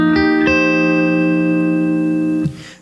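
A barre chord strummed on guitar in reggae style, with two quick strokes near the start, then the chord rings and sustains before a muted final scratch cuts it off.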